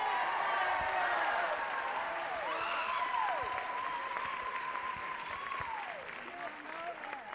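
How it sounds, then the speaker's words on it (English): Audience applause at the finals of a world jump rope championship, sustained clapping from a large crowd with whistles and cheers rising over it, steady and fairly distant as staff are called onstage. "Please give them a tremendous warm applause."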